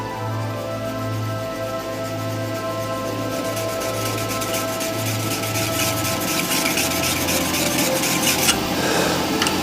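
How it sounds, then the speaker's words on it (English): A diamond card is rubbed along a tool's cutting edge to touch it up, a continuous close rasping scrape over a low steady hum, with no talk. "all I'm doing is just touching up that edge, just to sharpen the tool"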